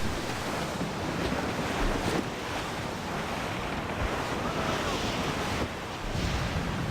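Heavy ocean surf whipped up by a typhoon at sea in Assassin's Creed 4 Black Flag, a steady loud roar of crashing waves with gusting wind and rumbling low-end wash throughout.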